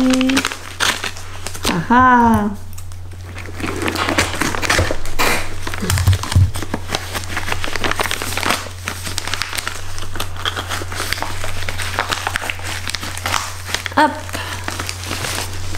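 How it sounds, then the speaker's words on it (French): A well-wrapped parcel is opened with close crinkling and tearing of its packaging in short bursts, under a steady low hum, while a person speaks briefly. "Je vais ouvrir le colis."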